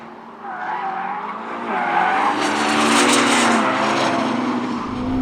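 A Ferrari SF90 Assetto Fiorano on a race track, its engine note swelling loud and close through a downshift, with rising hiss and tire noise blending into a sustained roar and no talking.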